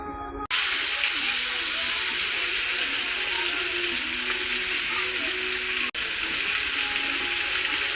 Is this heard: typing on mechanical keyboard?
no